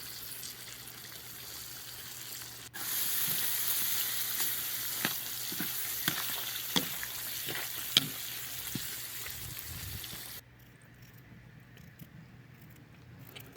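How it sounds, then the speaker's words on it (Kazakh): Singed lamb kuyrdak with added tomatoes fries in a kazan, a steady close sizzle with scattered scrapes and clicks of stirring that drops to a softer bubbling near the end. "Қалауыңызға қарай қызанақ қосып, араластырып қоямыз."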